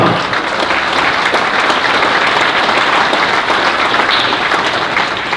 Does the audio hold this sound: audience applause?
yes